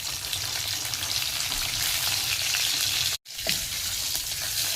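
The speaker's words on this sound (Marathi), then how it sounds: "लसूण घालूया. लसूण चांगला तांबूस होऊन द्यायचा." Garlic frying in hot oil gives a steady, dense sizzle that runs close and loud with no talking, broken by a brief cut of silence near the end before the crackle resumes.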